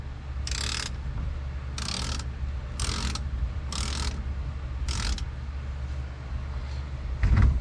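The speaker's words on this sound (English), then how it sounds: "now all we gotta do is just crank down this center bolt, which should pull" Five evenly spaced bursts of ratchet clicking from a socket wrench cranking down a wheel's center bolt during an alignment repair, close and loud over a steady low hum, ending with a sharper knock.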